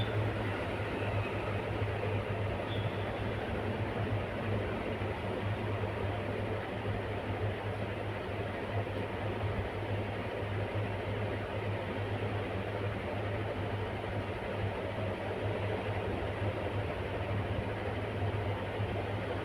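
A sewing machine runs continuously while stitching along the edge of a garment neckline, a steady even mechanical whir and low motor hum that holds unchanged throughout with no pauses or voices.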